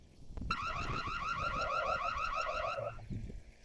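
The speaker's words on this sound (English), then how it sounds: "the camera has an alarm. It's really loud." The siren on a Reolink Duo 3 security camera blares during a sound test, a continuous warbling electronic alarm lasting a few seconds, heard from a distance outdoors.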